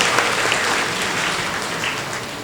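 A congregation at a church feast for Saint Anthony of Padua claps together, a dense, steady burst of applause from many hands filling the hall throughout.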